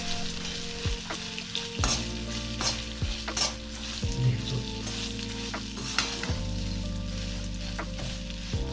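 Roasted chickpeas being stirred into a pan of traditional Maharashtrian chivda, with a steady frying sizzle and repeated scraping and clinking of the spoon against the pan throughout, close and clear, no talking.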